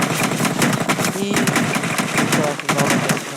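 Loud, close gunfire in a battle royale shooter video game, rapid repeated shots layered with other game effects, while someone talks over it.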